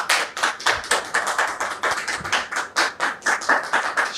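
Audience applause welcoming a guest onto a stage set, with steady close rhythmic clapping from a modest crowd, sharp individual claps in a continuous patter without voices.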